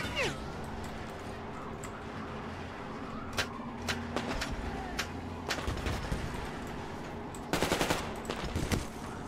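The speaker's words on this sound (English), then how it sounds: "Wait, where am I getting shot at?" Gunfire in the video game Metro Exodus, with scattered shots and a loud burst of rapid fire near the end, heard over a steady low game ambience.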